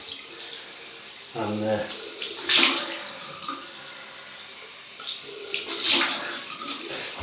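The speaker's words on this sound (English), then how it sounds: "Very nice cold water rinse then." Cold water runs from a tap for rinsing during a shave, with bursts of splashing and gushing that start and stop, and someone briefly speaking between them.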